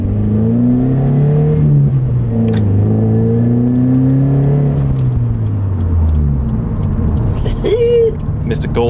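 A Subaru BRZ fitted with a Nameless Performance aftermarket exhaust cruises with a steady, rising and falling engine note, moderately loud and continuous, while people talk over it.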